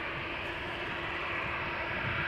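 A departing aircraft at Amsterdam Schiphol Airport roars steadily in the distance, its broad, even engine rumble holding constant with no other sounds over it.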